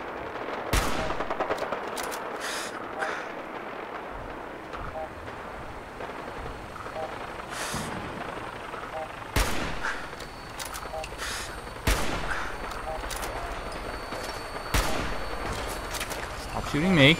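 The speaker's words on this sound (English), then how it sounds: "Stop shooting me." Game gunfire in Fallout 4: scattered shots and short bursts strike throughout over a dense, noisy combat backdrop, with a few louder blasts standing out and a voice talking over the fight.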